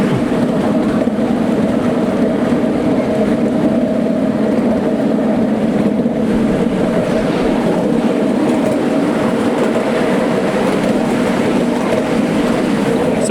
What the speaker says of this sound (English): We're on the mini Flying Scotsman.